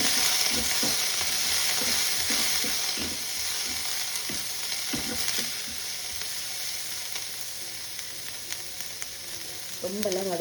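Onions, green chilies and curry leaves sauté in hot oil for egg rice, a steady broad sizzle running throughout with intermittent spatula stirs and scrapes, close and loud, with no talking.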